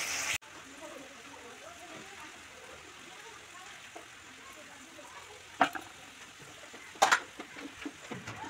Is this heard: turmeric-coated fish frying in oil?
yes